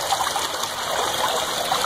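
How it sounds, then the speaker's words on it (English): Water gushing out of an aquaponic gravity return pipe into a garden pond, a close, loud, continuous splashing rush with no pause. "here is all the water coming out on the other end."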